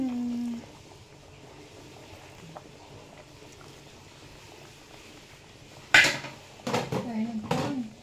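Spoon clinking against a pot of milk fish soup with leafy vegetables: a quiet stretch, then a few sharp metallic clinks and scrapes close by near the end, with a voice speaking.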